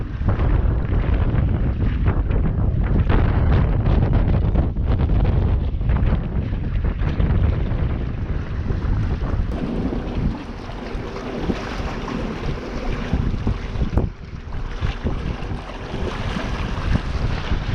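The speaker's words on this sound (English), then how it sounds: "The wind is picking up now as well." Strong wind blows across the water of Durban Harbour, with steady roaring gusts and microphone buffeting throughout, easing slightly partway through, and no one talking.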